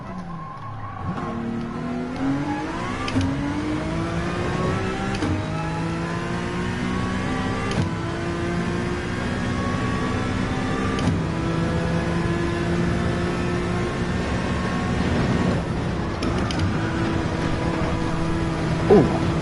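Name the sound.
race car engine driving a lap at Spa in video game GT7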